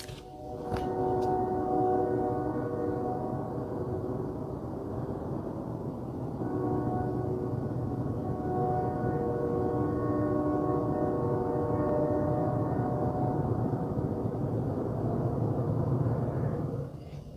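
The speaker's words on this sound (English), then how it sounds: "I just heard a train." A train rumbles past a truck on a Georgia road, a long steady low roar with droning tonal hum lasting the whole stretch, loud and continuous with no talk.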